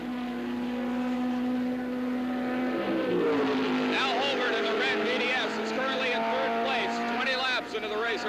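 A Can-Am race car accelerates hard through corner 1 and up the hill toward corner 2 at Mosport in 1982, its engine pitch climbing and sweeping with shifts, loud and continuous beneath a voice talking over it.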